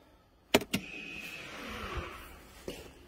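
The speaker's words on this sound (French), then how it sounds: "pour le mettre en position tendue au niveau du frein stationnement électrique" A car's electric parking brake engages with two sharp mechanical clunks close together, followed by a brief whirring motor hum and a softer click a couple of seconds later, close-up and fairly quiet.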